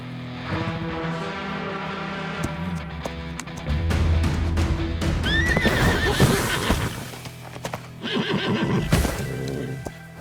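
A horse whinnies loudly and snorts close by while hooves clip-clop, with other clattering around it and no voices.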